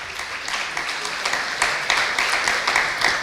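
Applause for buyers at an FFA ham and bacon auction, a crowd clapping steadily and fairly close with scattered sharper claps.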